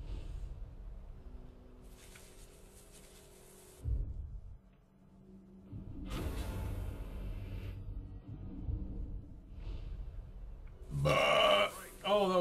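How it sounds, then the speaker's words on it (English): A game character in Shadow of Mordor lets out a long, low, gurgling burp near the start, followed by rumbling game ambience and other low grunting sounds. "Oh, that was an amazing burp."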